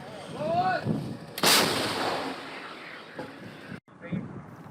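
A Soviet-era artillery gun fires a single heavy, booming shot outdoors in wind, with a sharp blast that rolls away into a long rumble while someone talks.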